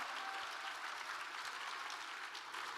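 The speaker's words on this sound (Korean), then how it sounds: "큰 박수를 부탁드립니다." A year-end festival audience claps together in a continuous, even burst of applause, soft and somewhat distant, with no voices on top.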